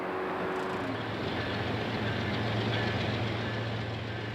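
Eastbound CN freight train M336 from Green Bay, Wisconsin idles at night at Joliet during a crew change, a steady low diesel rumble with a constant hum, no voices.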